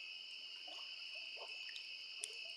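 A chirpy frog calls at night, short faint chirps scattered over a steady high insect drone in an open outdoor setting, with no talking.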